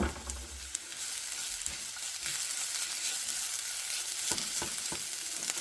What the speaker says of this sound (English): I'm going to go ahead and add the garlic in